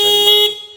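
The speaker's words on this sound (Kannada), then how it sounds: "ಈ ಬೇಸಿಕ್ ಟೆಸ್ಟಲ್ಲಿ ನಾವು ಹಾರ್ನ್ ಚೆಕ್ ಮಾಡಿ" A car horn sounds in one steady, loud blast of under a second during a basic horn check at a service garage, then cuts off.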